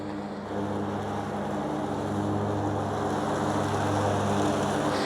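A Kubota ZD1011 diesel zero-turn mower runs with a steady, droning engine hum that starts quieter and then holds constant, fairly close, with no talking.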